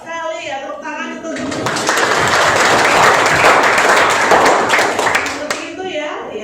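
A class breaks into loud, dense applause that swells and holds for several seconds between a teacher's spoken remarks at the start and end.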